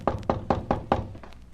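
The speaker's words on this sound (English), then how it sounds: "I walked up the stairs and knocked on the front door" Knocking on a front door in a radio drama: five firm, evenly spaced knocks on wood, close and loud, followed by a faint sixth tap, with no voices.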